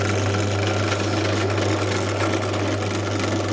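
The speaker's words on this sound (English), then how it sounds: "I'm going to drill the two holes, the green LED and the red LED" A drill fitted with a 5mm bit bores LED holes for an electronic touch game project, giving a steady, loud motor drone that stays even throughout with no speech.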